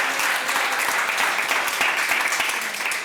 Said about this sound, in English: So please do give a round of applause for that honesty.